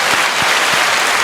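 Studio applause for the winner of a podcast's first Banana Award, a dense, steady wash of clapping filling the short moment with a few louder low thumps.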